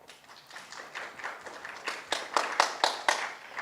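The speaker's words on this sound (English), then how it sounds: "Please hold your applause for the end of the round" An audience at a school spelling bee breaks into scattered clapping that builds from soft, sparse claps into louder, distinct individual claps before fading.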